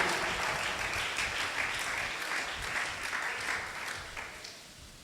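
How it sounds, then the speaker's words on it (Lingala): A church congregation applauds the Lord during a sermon, a full burst of many hands clapping that slowly thins and fades toward the end. "Acclamons pour le Seigneur."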